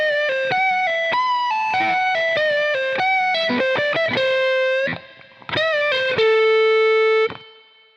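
A lead electric guitar plays a quick bluesy phrase in the Dorian mode, with picked and bent notes, ending on a long sustained note that stops abruptly.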